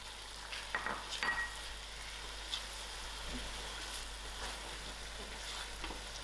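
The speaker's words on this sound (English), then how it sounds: "I'm going to add in my grated tomatoes to it." Grated tomatoes going into a cooked-down sauce for a lentil and vegetable pie filling give a faint, soft sizzle, with a few scattered stirring scrapes and clicks near the start.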